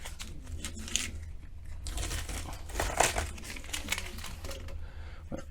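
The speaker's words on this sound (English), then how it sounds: "Let's go ahead and get that tape off before we do that." Tape is peeled off a canless smart recessed downlight, giving close, irregular crinkling and crackling rustles with a few sharper snaps.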